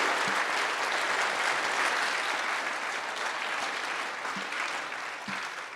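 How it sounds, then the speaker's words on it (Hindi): A large convention audience at the BJS National Convention breaks into loud, sustained applause, a thick wash of clapping that holds steady and eases slightly toward the end. "एक जोरदार तालियों के साथ इसका समर्थन होना चाहिए"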